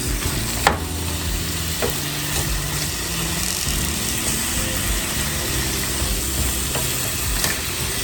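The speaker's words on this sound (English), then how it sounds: "You do not have to put a lot of seasoning on squash. You're just gonna simply saute these." Squash sautés in a pan with a dense, steady sizzle and crackle, close and continuous throughout, with a low background hum and a couple of faint clicks.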